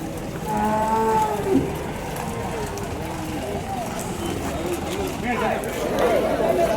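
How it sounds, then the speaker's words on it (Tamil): Kangayam bulls and calves at a cattle market in Vaniyambadi, lowing in deep drawn-out moos amid a busy crowd, with people talking throughout and occasional hoof clatter. "காங்கேயம் கன்றுகள் காங்கேயம் காளை எல்லாம் வந்துருது."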